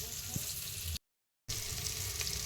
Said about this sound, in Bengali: ফুলকপি আলু লঙ্কা টমেটো ভালো করে ভেজে নিচ্ছে